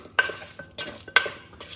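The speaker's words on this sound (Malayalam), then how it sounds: "നമുക്കൊന്നൊന്ന് മിക്സ് ചെയ്ത് കൊടുക്കാം" A spoon stirs Kerala-style duck roast masala in a pot, scraping through the thick mixture in four quick, rhythmic strokes with a faint sizzle between them, close and clear with no talk.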